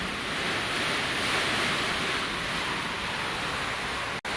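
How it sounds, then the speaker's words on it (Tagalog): A strong, steady roar of typhoon wind near the sea hisses continuously, with a brief dropout near the end. "Grabe ang lakas ng hangin."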